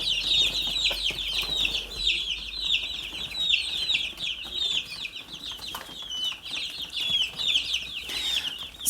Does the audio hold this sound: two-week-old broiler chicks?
yes